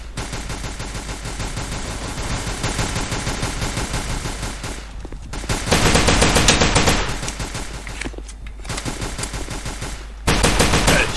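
Rapid automatic gunfire from the online shooter Combat Reloaded 2, loud and continuous for several seconds with bursts that swell and cut off, no talking over it.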